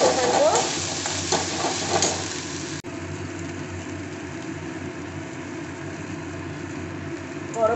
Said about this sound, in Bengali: এটা কষাতে থাকবো।